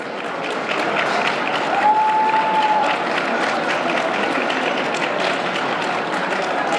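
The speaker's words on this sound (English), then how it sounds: "if we can give them a round of applause" Steady, full applause from a large audience at a community cultural event honoring awardees, dense clapping rising quickly and holding evenly throughout with a brief tone over it.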